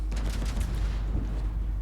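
A continuous barrage of heavy naval gunfire in World of Warships, with rapid overlapping booms and rumbling blasts that carry on without pause.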